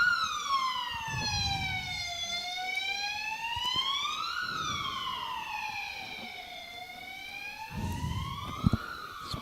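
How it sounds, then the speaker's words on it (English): An ambulance siren wails past near a hospital during a bowls championship, rising and falling in a slow continuous sweep, loud and clear over light outdoor background noise. "And another ambulance."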